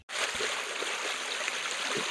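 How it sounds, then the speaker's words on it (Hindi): Water from a small waterfall rushes steadily after heavy rain near a temple in a tiger reserve, a continuous broadband stream sound, fairly close, with no talking. "थोड़ा बहुत झरना बह रहा है"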